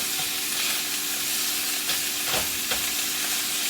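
Pieces of rabbit brown in a hot pan with a steady, close sizzle and hiss that continues without a break, with a few brief louder crackles partway through.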